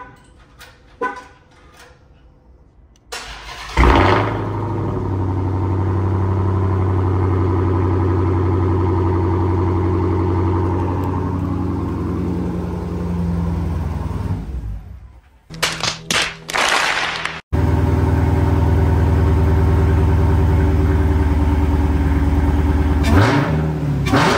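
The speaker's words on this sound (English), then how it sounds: "I'm gonna get y'all a little clip, bro, on me revving it." Redeye car engine revving: a deep, loud roar that swells and holds for about ten seconds after some quiet handling noise, then short sharp revs and a final sustained rumble.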